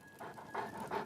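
A dog in the video game Oblivion Remastered pants softly in a few quick rhythmic breaths, close and quiet, with no talking.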